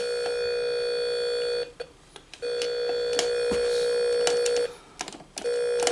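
Harsh electronic tones from a Tele-Games Speedway IV Pong console, steady beeping with a couple of short breaks, loud and close, no talking.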